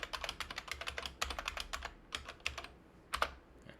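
Password being typed on a computer keyboard during a Windows 11 installation, a quick run of close, crisp keystrokes in uneven bursts with short pauses, no talking.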